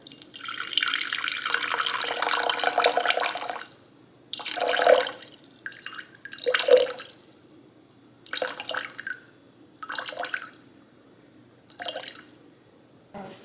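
Water runs steadily from a tap for a few seconds while being weighed out for sourdough, then comes in short bursts and splashes with quiet gaps between.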